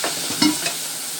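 Whisk scraping through a pan as milk is added to a roux for country sausage gravy, a short stirring burst with a couple of sharp clinks against the pan, no talking.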